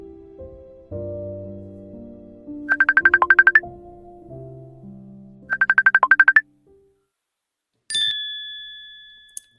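A phone plays a melodic ringtone with two bursts of rapid trilling chimes over a tune, then a sharp electronic tone sounds near the end while a call is being placed.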